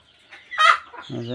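Chickens in intense heat give a brief burst of clucking, one sharp call followed by a short throaty cluck, close by.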